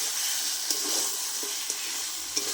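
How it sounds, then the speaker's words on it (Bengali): Fried fish stirred into cooked spice masala in a pan, a soft continuous sizzle with a few light spatula scrapes spaced about a second apart. "মাছগুলো দিয়ে আমি একবার নেড়ে নেবো ভালো করে।"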